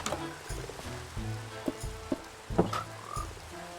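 A Minecraft frog croaks repeatedly in short, near, clearly separated calls over a soft background hum, with no talking.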